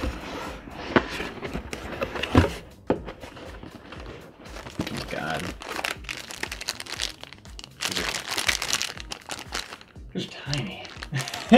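Cardboard and plastic packaging of a Nintendo Switch being opened and pulled apart, with crinkling, crunching and tearing noises in irregular bursts, heard close up alongside someone talking.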